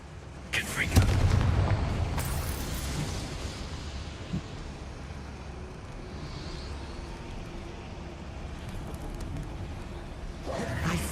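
Confringo blasting spell in Hogwarts Legacy, a booming burst near the start followed by a crackling, rumbling tail that fades into a low ambient hum, with a softer thud later.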